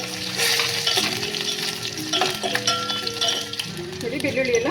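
Mustard seeds, cumin, garlic, dried chili and curry leaves tempering in hot oil for tomato rasam, a steady loud sizzle and crackle with a few light clinks of a spoon, and a person talking over it.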